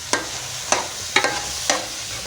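Dry fruits stirred into carrot halwa (gajar ka halwa) in a pan: four separate, quiet scraping strokes spaced about half a second apart over a soft background, with no talking.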